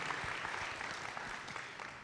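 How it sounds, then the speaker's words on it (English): Distant, fairly quiet crowd applause for a dancer at a live dance show, a steady rain of many clapping hands that stays even throughout, with no voices over it. "Just a round of applause for her."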